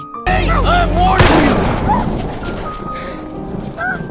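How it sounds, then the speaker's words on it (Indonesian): A sudden loud blast like a gunshot, followed by a booming echo and a rumble, mixed with voices and movie-style background sound. "Gator melepaskan sebuah tembakan yang tepat mengenai di bagian perutnya Casey"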